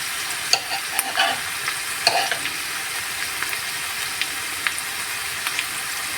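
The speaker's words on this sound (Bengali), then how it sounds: "পেঁয়াজ বাটা দিয়ে 1 মিনিট ভেজে নেওয়ার পর এখন আমি দিয়ে দেব আদা বাটা 1 চা চামচ" Onion and ginger paste fries in a pan for prawn bhuna, a steady close sizzle with occasional stirring scrapes and soft pops throughout.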